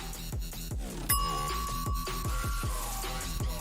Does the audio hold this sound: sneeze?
no